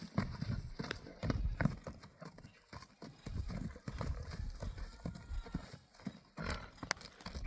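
Horse at a Kyrgyz horse market, an eight-year-old racing horse used for ulak, its hooves clip-clopping in irregular bursts close by amid background market noise, with a brief whinny-like sound.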